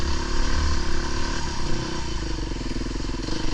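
A Fantic 350 enduro motorcycle engine running up close, a loud, rough, steady four-stroke drone with a clattering mechanical edge throughout.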